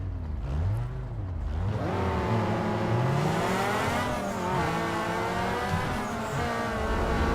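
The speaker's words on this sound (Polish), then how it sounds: "A moje auto szybko przyspiesza." A car accelerates hard in the racing game Need for Speed Underground 2, its engine note rising steadily and loudly through the gears with a brief dip and climb, up close and without any talk.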